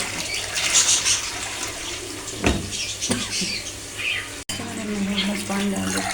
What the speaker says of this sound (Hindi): बस पानी डाल देते हैं